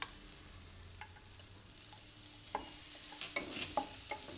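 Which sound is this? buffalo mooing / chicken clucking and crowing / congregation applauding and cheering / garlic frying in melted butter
garlic frying in melted butter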